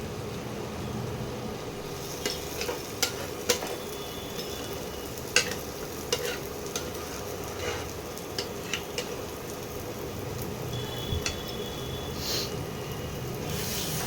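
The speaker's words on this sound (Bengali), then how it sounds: "এরকমভাবে মশলাটা কষিয়ে নিতে হবে। এই মশলা তেল আস্তে আস্তে দেখো সাইড দিয়ে ছাড়ছে।" Spice masala with tomato fries steadily in oil for a Bengali parshe fish dish, a constant low sizzle with occasional soft spoon scrapes and clicks, close and even throughout.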